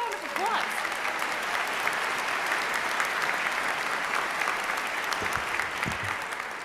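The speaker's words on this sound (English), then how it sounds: "Give yourself a round of applause." Nursing school graduates at a graduation ceremony break into sustained applause, a dense, steady wash of clapping from a large crowd filling the room, with a voice briefly audible at the start.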